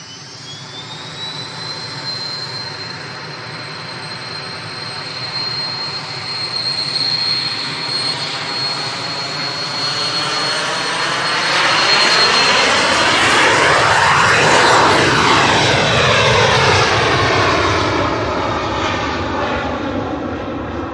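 A small plane's engine roars past at an airport in fog, a steady drone that swells to its loudest midway with a sweeping Doppler pitch shift, then eases off slightly while staying prominent throughout.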